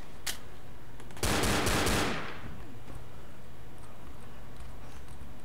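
A burst of rapid automatic gunfire in the video game Left 4 Dead, one loud rattling volley lasting about a second after a single earlier shot, over a low steady game background with no talk.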